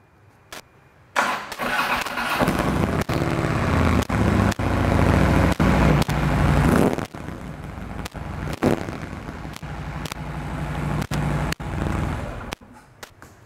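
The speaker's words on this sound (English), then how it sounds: "The exhaust system on this bike is stock, but let's fire it up and have a listen," A 2015 Harley-Davidson Street Glide Special with stock exhaust cranks and fires up, settling into a loud, loping V-twin idle with a few throttle blips; sharp clicks punctuate the run.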